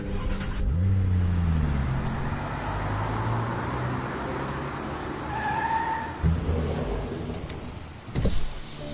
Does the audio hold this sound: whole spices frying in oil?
no